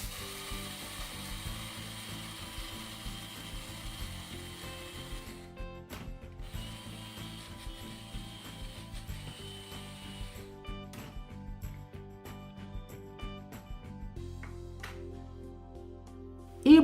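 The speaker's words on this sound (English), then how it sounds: "Grind the egusi with the ogiri okpei." A small electric grinder whirs while grinding egusi seeds with ogiri okpei, a steady rattling mechanical hum with brief stops and restarts, close and moderately loud, ending with a sharp knock.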